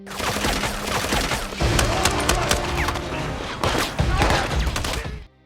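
Henchmen fire on local police in an action film, a dense, loud barrage of overlapping gunshots and impacts that carries on throughout and cuts off abruptly at the end.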